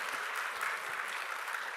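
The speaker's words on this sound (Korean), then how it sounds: "할렐루야 박수" A church congregation claps together in a dense, steady burst of applause that fills the room without pause.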